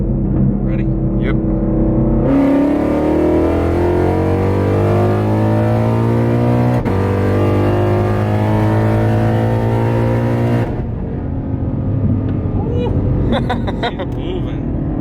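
An 800 HP Shelby GT500 accelerating hard from a 60 mph roll, the engine note climbing steeply through the gears, loud from inside the cabin, then cutting off and leaving quieter cabin noise and talk.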